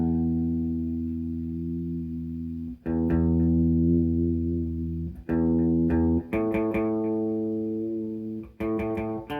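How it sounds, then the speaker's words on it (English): An electric guitar is tuned through effects, single notes and chords ringing out with distortion and chorus, each sustained for a second or more and then restruck, loud and close with no talking. "I also have to make sure you're in tune."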